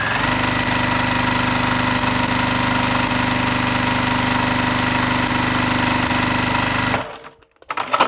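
Home sewing machine running at 1,500 stitches per minute while piecing a quilt block, a loud, close, steady mechanical whir with a rapid even pulse for about seven seconds, then it stops and a few soft handling knocks follow.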